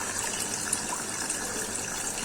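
Water gushes steadily from a small homemade indoor fountain onto a lotus, a continuous close splashing trickle with faint bright droplet sparkles and no speech.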